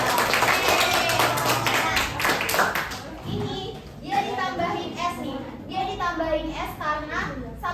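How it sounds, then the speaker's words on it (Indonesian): Schoolchildren in a classroom clap together in a loud burst that fades after a few seconds, followed by scattered children's chatter and voices. "Tepuk tangan dulu dong."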